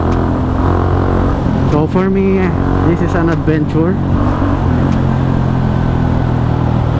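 A motorcycle rides from Calamba, Laguna toward Manila with a steady engine and wind drone throughout, and the rider talks over it.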